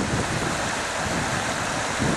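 Loyalsock Creek in the northeastern Pennsylvania mountains, running fairly shallow beneath a bridge, gives a steady, full rushing wash of water that holds constant throughout, with a breezy, wind-like edge and no voices.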